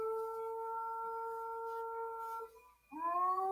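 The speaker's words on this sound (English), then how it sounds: "That's one pissy cat." An angry cat gives a long, sustained yowl that wavers steadily, dips briefly into quiet, then rises again into a sharper, louder wail, close and alone.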